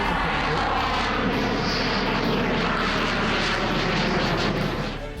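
A French Air Force Rafale fighter jet performing a display at an air show roars loudly and steadily overhead. The broadband engine noise is continuous and powerful, with no voices.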